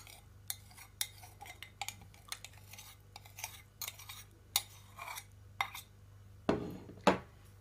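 A utensil stirs a yeast, milk and sugar mixture into flour in a dough bowl, with faint, irregular clinks and light scrapes against the bowl, ending in a couple of louder knocks.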